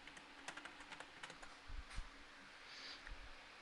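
Quiet clicks of typing on a computer keyboard, a short irregular run of light keystrokes close by, with a faint fan hum underneath and no voices.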